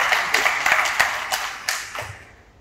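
A small audience at a political presentation claps in a brief, sparse round, distinct individual claps close by that thin out and fade within a few seconds, with a faint voice in the background.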